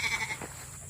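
A sheep or goat on a farm gives a brief, wavering bleat at fairly close range, fading within a second.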